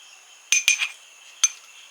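A spoon clinks against a bowl while mixing soy, chili and tomato sauces for chili chicken, three quick close metallic taps followed by one more after a short pause, in an otherwise quiet room.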